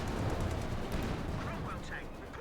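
Vickers machine gun fire in Company of Heroes 2, blending into a dense, continuous wash of rattling battlefield gunfire that persists throughout, with a voice talking over it.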